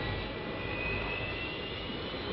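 Mirage III delta-wing fighter jet taking off from runway 10, a steady broadband roar of jet engine noise that holds constant throughout, with no speech.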